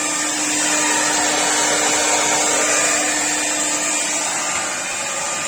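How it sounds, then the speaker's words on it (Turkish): Hair dryer blowing steadily to dry a wet surface before silicone sealant is applied, a continuous loud whooshing airflow with a faint motor whine that holds level throughout with no talking. "Herhangi bir saç kurutma makinesi olabilir."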